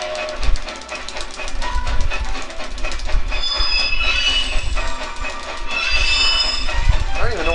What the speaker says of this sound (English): Press X to make the train accelerate toward the stations.